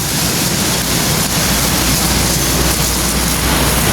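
Steady, loud outdoor rain fills the whole stretch with a dense, unbroken hiss and spatter, heard on a wet-weather walk to work, with no voices.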